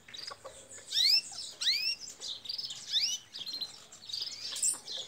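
Belgian canaries and tarim birds sing close by in repeated bursts of bright rising chirps and trills, with no voices over them.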